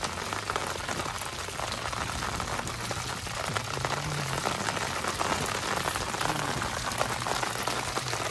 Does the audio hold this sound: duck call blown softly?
no